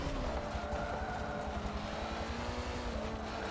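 A Lamborghini Countach engine in the Forza 7 racing game drones steadily at a sustained pitch, an even, continuous whine and rumble with no pauses or clear revving changes.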